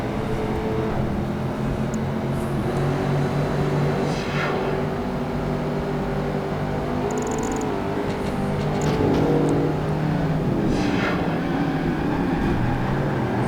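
Race cars from Project Gotham Racing 2's American Muscle series drone through a long race, a continuous, loud engine roar with shifting pitch and faint passing whooshes, no speech.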